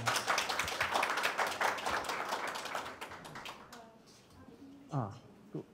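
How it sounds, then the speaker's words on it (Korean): A committee assembly audience applauds participating committee members with dense clapping that fades after about three seconds, leaving a quiet room where a voice briefly speaks. "큰 박수 부탁드립니다."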